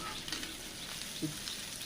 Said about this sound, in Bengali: ঝাল পেঁয়াজ কুচি দিয়ে পুঁটি মাছগুলো এইভাবে ভেজে নিলাম